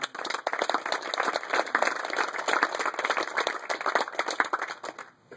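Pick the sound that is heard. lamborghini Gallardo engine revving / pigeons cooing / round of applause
round of applause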